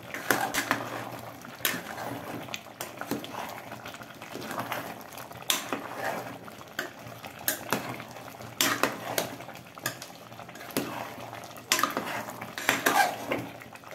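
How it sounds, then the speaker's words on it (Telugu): A spoon clatters and scrapes against a pot as chili powder is stirred into a mutton curry, repeated clinks and scrapes in an irregular rhythm close by. "కారం మంచిగా కలిసేటట్టు కలుపుకోవాలి."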